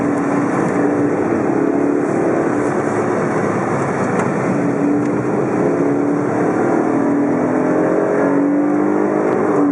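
Recorded from inside, a Lotus 2-Eleven drives along with a loud, continuous engine and road roar, rising and easing slightly as the throttle is lifted, with no talking.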